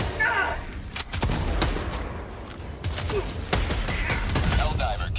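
A grenade explodes in the sci-fi shooter Helldivers 2 amid scattered gunfire, with sharp thumping blasts and crackling shots over a rumbling battlefield bed, close and loud across several seconds.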